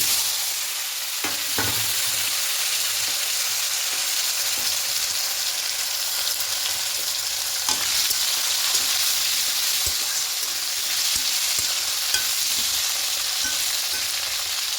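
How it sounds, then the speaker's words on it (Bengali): Diced potato, onion, tomato and pointed gourd fry together in a pan of hot oil seasoned with five-spice, a bay leaf and dried chillies, giving a loud, steady sizzle with occasional stirring scrapes and no voices. "একটু হালকা করে ভেজে নেবো করে ভাজা ভাজা হয়ে এসছে"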